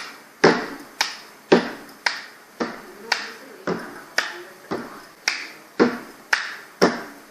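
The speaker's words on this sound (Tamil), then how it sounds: "You have to clap and tap 10 times." A classroom of students claps hands and taps on benches in a steady, even rhythm, giving about thirteen crisp, loud beats roughly half a second apart with no talking.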